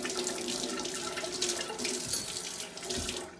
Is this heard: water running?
yes